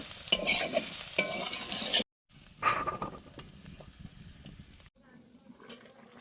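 Frying potatoes for biryani stirred in a pan, with a brief burst of sizzling and metal scraping early on, then quieter intermittent stirring and faint kitchen clatter nearby.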